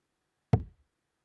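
A single solid knock, sharp and close, with a short resonant decay into silence, heard at a darts match commentary setting.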